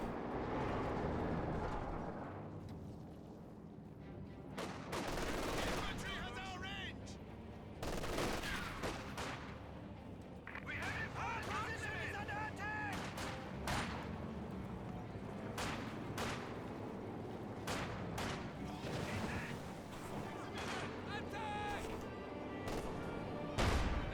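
Grenadiers trade gunfire with Soviet conscripts in a Company of Heroes 2 battle, sharp rifle and machine-gun bursts crackling steadily over a continuous din of combat, with a commentator talking throughout.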